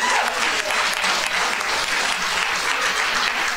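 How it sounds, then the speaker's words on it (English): Steady audience applause fills a library auditorium during an awards program, a dense, even wash of many hands clapping close by with no pauses. "And one more round of applause."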